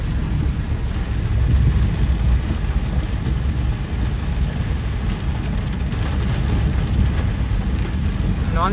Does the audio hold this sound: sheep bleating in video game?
no